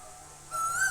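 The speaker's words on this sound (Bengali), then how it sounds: "দেখো এই গাছে বসে পাখিটা কীরকম ডাকছে" A bird calls from a tree, a single clear rising tonal call that starts halfway through and holds to the end, fairly close and alone over quiet background.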